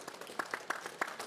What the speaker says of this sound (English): Please give him a round of applause, everyone.